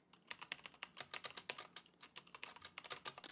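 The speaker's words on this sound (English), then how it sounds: "Listen to my keyboard." Typing on a Wooting 60HE custom mechanical keyboard, a steady rapid patter of crisp close keystrokes played alone at low volume.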